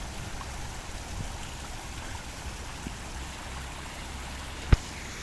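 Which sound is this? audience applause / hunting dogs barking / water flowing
water flowing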